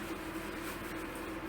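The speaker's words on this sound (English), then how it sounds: "If you can hear a whirring noise in the background, it's just my fan" Fan heater whirring steadily in the background of a cold workshop, a constant low hum with a faint airy hiss and no other sounds.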